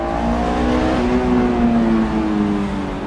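A Honda S2000 engine revs hard under acceleration, a loud, steady, rising mechanical howl heard from inside the car with no talking over it.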